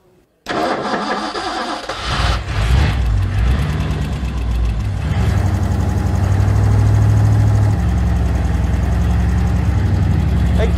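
A 1964 Ford Galaxie 390 V8 cranks and catches, then runs loud and rough as a junkyard rescue that won't settle into an idle, steady engine roar close by.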